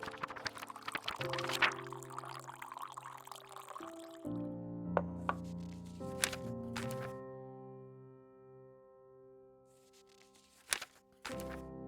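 A drink is poured into a cup, a soft trickling pour for a few seconds over quiet background music, followed by a few light thunks.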